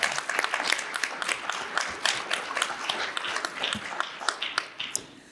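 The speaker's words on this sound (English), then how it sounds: "I think that deserves a round of applause." Audience at an education leadership event on state literacy policy gives a round of applause, dense overlapping claps from a crowd in a room, steady then gradually thinning and fading out.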